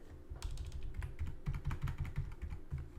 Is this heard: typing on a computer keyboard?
yes